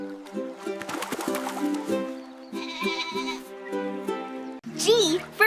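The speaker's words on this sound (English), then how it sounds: "G is for goat." A goat bleats near the end with a quavering cry, set against a bright, tuneful preschool alphabet song.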